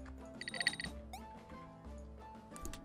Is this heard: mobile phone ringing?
yes